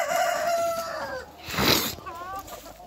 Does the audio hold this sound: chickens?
yes